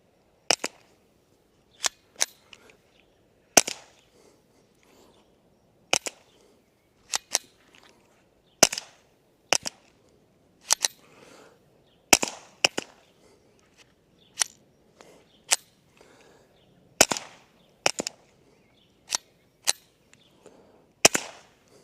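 Suppressed B&T Tiger Ti gunfire alternating subsonic and supersonic rounds, about sixteen sharp cracking shots spaced roughly a second apart with quiet gaps between them, close and loud, without talking.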